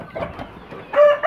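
Chickens cluck close by in short, uneven bursts, with a louder, higher call near the end, in a backyard coop setting.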